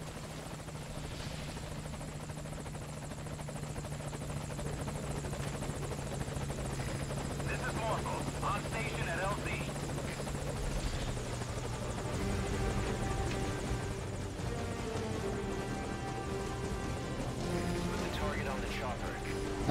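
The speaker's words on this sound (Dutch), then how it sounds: "Ik hoor al een helikopter aankomen." Steady helicopter rotor drone builds in the distance beneath Metal Gear Solid V: Ground Zeroes game music and sound effects, with voices speaking over it.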